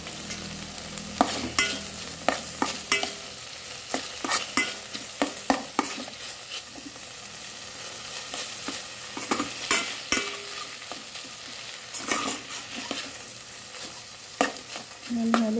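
Food frying in a pan gets stirred, with sharp spatula scrapes and clicks in irregular bursts over a low background sizzle, close and without talk.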